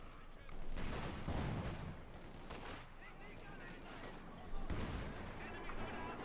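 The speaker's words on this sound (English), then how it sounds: "Field gun opening up the Panther 4." Field gun firing at a Panther tank in the Company of Heroes 2 battle game, heavy booms around the start and again later over a dense, continuous clatter of gunfire and explosions.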